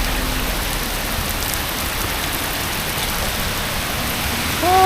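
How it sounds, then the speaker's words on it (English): Heavy rain pours onto a street in Krabi during a thunderstorm, a dense, loud, continuous hiss of drops on hard surfaces with no talking. "let's cross the road in the rain"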